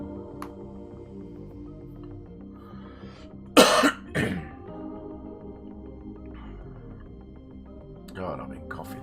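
A person coughs during a gaming session: a sharp, loud burst followed by a second cough, then a weaker one later, with quiet talk and background game sounds around them.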